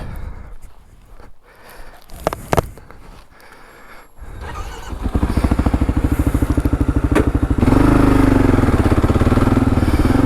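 A Kawasaki KLR 650 on Tusk D-Sport adventure tires rides on a highway. Its engine starts out quiet and grows into a loud, steady rumbling drone with a throttle-up step partway through, and there is no talking.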